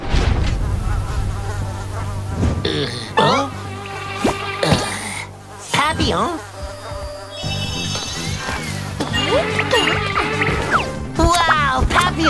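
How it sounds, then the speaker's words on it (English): Cartoon mosquitoes swarming around characters in a kids' animated environmental episode, a steady insect buzz mixed with lively background music and assorted effects, loud throughout. "Papillon, we're surrounded by mosquitoes!"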